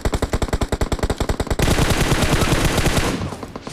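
Gunfire in PUBG Mobile played on a Redmi Note 8 Pro: a rapid, evenly spaced burst of loud automatic shots, then a denser, louder volley of fire that trails off, close and without talk.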